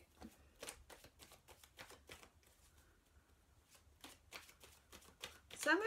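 Tarot cards shuffled haphazardly by hand, a quiet run of soft riffling flicks and slaps in irregular bursts, close to the listener, pausing briefly midway before resuming.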